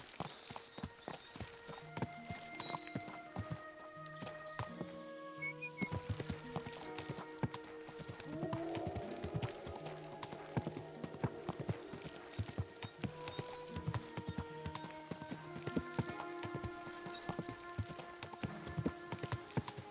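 Horse hooves clip-clop at a steady walking pace in Kingdom Come: Deliverance 2, moderately faint beneath a layer of ambient game music.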